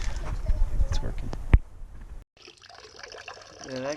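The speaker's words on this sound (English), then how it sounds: "we're going to go turn on the water" A newly replaced outdoor faucet runs water in a steady, soft hiss and trickle after a stretch of talking and handling noises, the flow continuing alone at a modest level.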